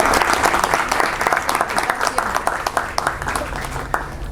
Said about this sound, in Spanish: un aplauso antes de seguir